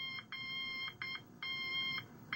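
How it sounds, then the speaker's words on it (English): An Interlogix Concord Express alarm system touchpad sounds protest beeps for open sensors: a clear, moderately loud electronic tone in a repeating pattern of short and long beeps. "The touchpad will emit protest beeps because of the open sensors."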